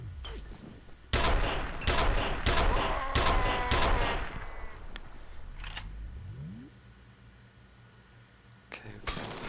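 A rapid volley of sharp gunshots in the video game F.E.A.R. cracks out in quick succession, then thins to a few scattered shots before a final burst near the end.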